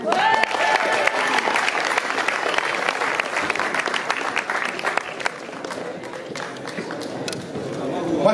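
Audience at a cabaret show claps loudly and continuously, a dense wash of applause that gradually thins out, with a few whistles and voices at the start.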